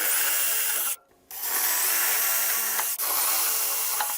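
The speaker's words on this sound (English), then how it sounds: "I'm going to go ahead and drill all four corners so I can just cut down this way" A power drill bores holes into the corners of a plywood sheet, a loud steady whine that cuts out briefly partway through, then resumes with a short dip near the end.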